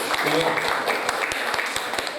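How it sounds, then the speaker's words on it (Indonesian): An audience at a village gathering claps for the local health centre, a dense, even patter of applause filling the whole moment with a voice briefly audible. "Tepuk tangan buat puskesmas."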